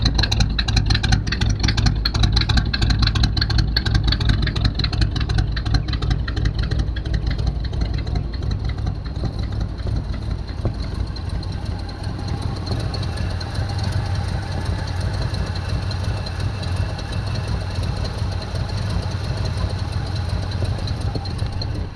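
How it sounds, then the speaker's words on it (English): An old hearse engine runs at a very low, rough idle nearby, a steady deep rumble that holds throughout with no voices. "Idle is really low. But it's running."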